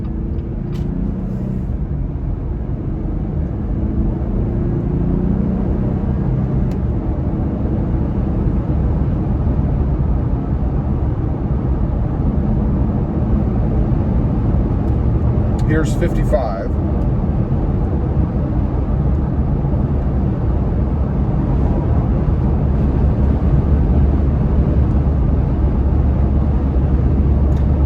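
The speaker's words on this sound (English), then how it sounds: "Now I'm guessing you probably can hear more wind noise than tire noise for that." Jeep Gladiator on new tires cruising at 55 mph, a steady loud low road roar with wind noise throughout, a brief spoken phrase near the start.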